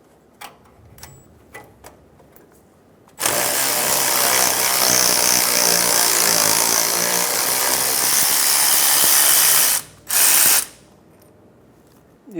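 A 12mm socket on a ratchet or power tool backs a bracket-to-frame bolt out of a 2000-2006 Toyota Tundra during power steering line work, a loud steady mechanical whir running about six seconds after faint clicks, then a brief second burst.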